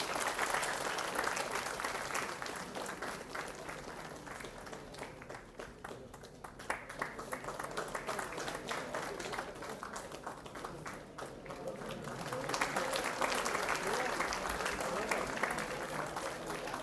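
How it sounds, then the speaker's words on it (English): An audience at an international conference's inaugural ceremony gives sustained, dense applause, loud throughout with a brief dip midway before swelling again. "round of applause."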